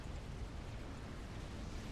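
Continuous dense rumble of explosions and artillery-like blasts from large naval and ground battles in a Forged Alliance Forever 4v4 custom match on the Setons map, loud and steady throughout.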